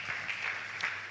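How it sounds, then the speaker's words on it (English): Conference audience applause for a speaker at an autism event, a brief, even wash of clapping, moderately faint, with no voices. "We can do better with that round of applause for Amanda."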